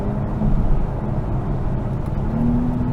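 A 2024 Acura TLX Type S engine revving under hard acceleration from inside the cabin, a steady deep drone that builds and rises in pitch toward the end, loud and close with no talk.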